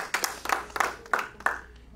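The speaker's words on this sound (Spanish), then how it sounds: "Eso ya lleva un aplauso fuerte." A church congregation claps during a sermon with a handful of distinct, spaced claps over about two seconds, fairly close and sparse rather than a full ovation.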